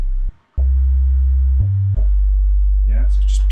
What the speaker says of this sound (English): Yeah, so it's just pure sine wave.